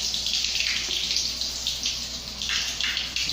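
A bathroom faucet in a newly finished, cleanly tiled bathroom runs in a steady, close hiss of flowing water, with slight surges in strength and no voices.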